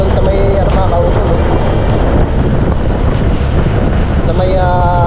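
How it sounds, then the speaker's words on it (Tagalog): Strong wind roars steadily and loudly across the microphone, a constant buffeting rumble with voices murmuring faintly beneath it. "Ang lakas ng hangin"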